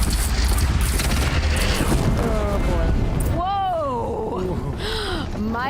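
A bridge blown apart in the video game Horizon, a loud rumbling, booming collapse that fills the first few seconds before dying away under raised voices as people talk over the aftermath.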